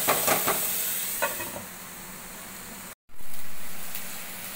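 Rice flour dough with turmeric steaming in a pan: a few scraping stirs over a soft sizzle, then a short break and a smooth, fading hiss of steam.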